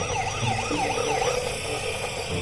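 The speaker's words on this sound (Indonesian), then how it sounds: "ini ada mobil ambulans." A toy ambulance siren wails in a steady, rising-and-falling electronic tone, loud and close, with no talking over it.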